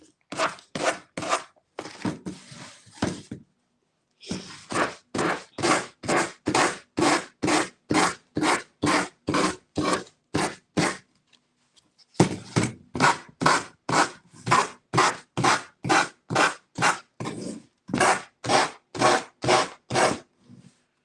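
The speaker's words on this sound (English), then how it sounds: "I've got my little finger sander and I'm just in a downward motion, sanding off the excess." A small finger sander works excess paper off a craft piece in steady downward strokes, a rhythmic rasping scrape repeating about twice a second, with two brief pauses and no speech.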